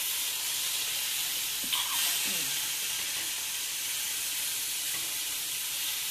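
Ground bison patties frying in oil in a pan, giving a loud, continuous close-up sizzle and hiss, with a voice briefly speaking over it.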